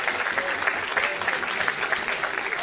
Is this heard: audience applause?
yes